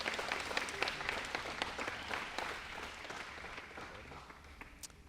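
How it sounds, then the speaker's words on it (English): An audience at a campaign debate claps for the participants, a moderate round of applause that rises quickly and tapers off over a few seconds, with no voices heard. "Let's give these guys a round of applause for another good set of answers."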